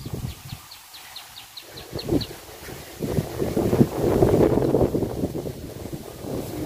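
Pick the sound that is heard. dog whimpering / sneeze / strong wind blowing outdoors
strong wind blowing outdoors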